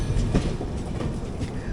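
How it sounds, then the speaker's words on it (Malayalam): The Kakinada Port–Sainagar Shirdi Express rolls steadily through a crossover onto the opposite main line on the Manmad–Daund route, a close, continuous rumble with faint clickety-clack of wheels over track joints. "ഇപ്പോൾ നമ്മൾ വന്ന മെയിൻ ലൈൻ നമ്മൾ എക്സിറ്റ് ചെയ്ത് ഓപ്പോസിറ്റ് മെയിൻ ലൈനിലോട്ട് കയറി."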